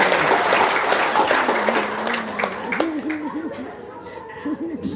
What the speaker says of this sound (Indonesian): Tepuk tangan dong, Bapak.